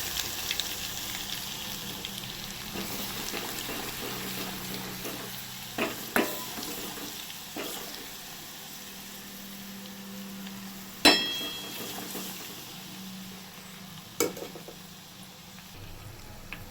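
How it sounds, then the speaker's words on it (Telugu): Garlic paste frying in hot oil, a steady soft sizzle with a few sharp clinks of a utensil against the pan scattered through. "వెల్లుల్లి వేగిపోయింది"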